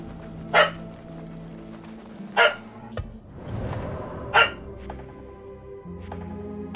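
A dog in the video game Assassin's Creed Mirage gives three sharp single barks about two seconds apart, over a steady low game ambience with no talking.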